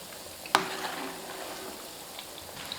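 Flour and egg balls deep-frying in oil over medium heat, a soft continuous bubbling sizzle after one sharp clink near the start, close and fairly quiet.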